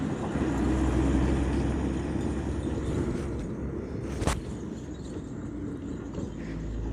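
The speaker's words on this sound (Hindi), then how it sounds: "ये आपको आवाज़ आ रही होगी यहाँ से, ट्रक गुजर रहा है, काम चल रहा है।" A truck rumbles past on a road near a dam at a village, a steady low roar with engine drone that swells and fades, plus a brief clank partway through, with no voices.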